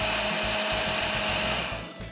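An electric blender whirs at full speed blending a melon smoothie, a loud continuous motor drone with a pulsing low chop that eases slightly near the end, with no talking.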